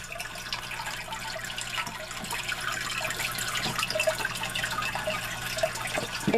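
A Penguin Pro Power aquarium filter on a betta fish tank runs steadily, giving a constant trickle and splash of falling water heard close up.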